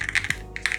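A handful of quick, crisp keystrokes on a mechanical keyboard with a cloudy, bubbly-feeling build, close up and clicky in a brief irregular cluster.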